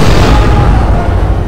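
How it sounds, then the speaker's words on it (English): A missile explosion sound effect in a Power Rangers audio drama, a dense, very loud rumbling blast that destroys a base, sustained and roaring throughout with no voices. "The missile platform and the entire base around it is destroyed in a fiery explosion."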